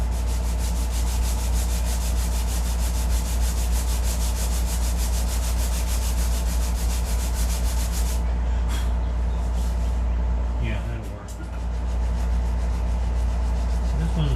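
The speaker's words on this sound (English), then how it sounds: "It's going to take a little bit more sanding." Steady abrasive rubbing of sandpaper worked by hand along the grain of cedar softwood, continuous and close, with a constant low hum underneath and a brief knock near the end.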